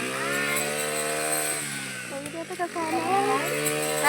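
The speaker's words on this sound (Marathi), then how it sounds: "ते बघा कसे मशीने कापते" A rice-harvesting machine cuts the crop in a farm field, its engine giving a steady, close droning whine with a strong harmonic buzz that wavers slightly partway through.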